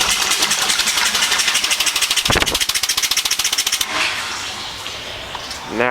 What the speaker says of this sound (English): let this pump finish pumping out what's left in this bucket